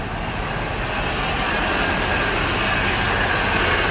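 A car engine runs at idle during coolant checks, a steady, dense broadband hum that stays even and continuous throughout with no talk.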